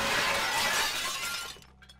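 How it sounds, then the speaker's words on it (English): A mirror shattering in a Halloween otome video game, one loud burst of breaking glass that fades out into tinkling fragments. "A nearby mirror shatters, sounding deafeningly loud in the silence."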